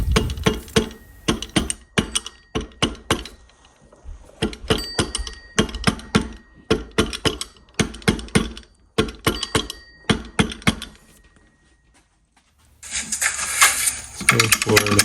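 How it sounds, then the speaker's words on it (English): A rubber mallet taps a new pump into place, a string of dull, close knocks in quick clusters with brief pauses between them, then a burst of hissy noise at the end. "Use the rubber mallet to lightly tap the new pump in."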